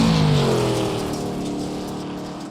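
Number 50 dirt late model race car out for qualifying at I55 Speedway, a loud, close engine roar with the pitch sliding downward as the car passes and fades slightly.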